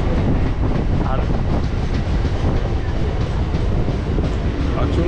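Local train running from Kolkata toward Digha, a loud, steady rumble of the rail car with rhythmic wheel clatter on the track, continuous and close throughout, with faint voices mixed in.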